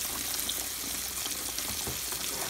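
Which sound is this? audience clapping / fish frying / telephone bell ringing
fish frying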